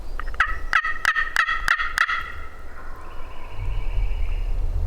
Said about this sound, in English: He's just gobbling.